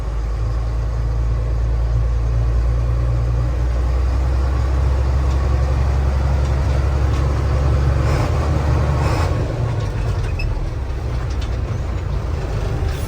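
A 1991 International 4900 dump truck with an automatic transmission pulls away in gear, its engine a steady, loud, close low rumble throughout with no talking.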